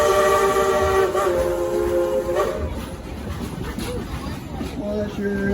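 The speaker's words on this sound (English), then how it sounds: "Well, that sure is a pretty whistle." Steam train whistle at Silver Dollar City, a loud multi-tone blast with rich steady harmonics that fades into rumbling rail and crowd noise with voices underneath.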